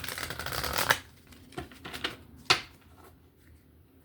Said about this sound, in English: One more shuffle, Aries.